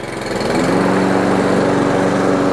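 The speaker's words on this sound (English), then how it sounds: "So to get the blades going, again, I'm gonna pull back on this tab, pull back on my bail." A Toro Recycler Max lawn mower runs with its blades engaged, a loud, steady engine drone with a low rotating hum that rises slightly at the start and then holds even, close to the microphone.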